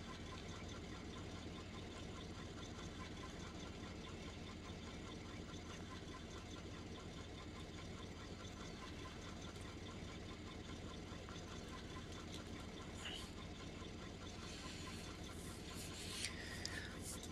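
A Samurai off-road vehicle in the Mudrunner video game runs its engine in its lowest gear, a steady, quiet droning hum that carries on unbroken with a few faint clicks near the end.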